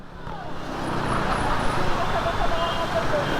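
A large truck rolling in road traffic behind a motorcycle, heard as a steady broad roar of engine and tire noise that builds slightly and holds, close and loud, with voices talking over it.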